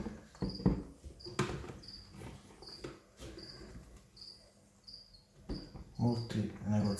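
Small crickets kept in a breeding container chirp in short, faint, high-pitched bursts that repeat at irregular intervals, mixed with soft rustling and handling noises close by.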